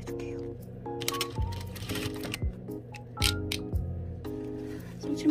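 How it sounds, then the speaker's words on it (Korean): A sewing machine stitches binding onto fabric in short repeated bursts of rapid mechanical chatter, stopping and starting several times, close and clear. "눌러서 박음질 해줄게요"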